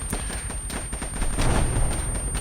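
Heavy gunfire and explosions in a military simulation video game, dense rapid bursts of shots and booming blasts packed together at close range, loud and continuous with no talking.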